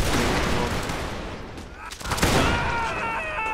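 Video game gunfire rings out as a dense volley of rapid, overlapping shots with a sharp swell near the middle, loud and close with no break.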